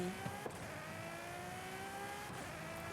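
A Ferrari in Forza Horizon 5 drives with a steady, moderately loud engine drone, its pitch holding and slightly shifting, with a couple of faint ticks and no voices.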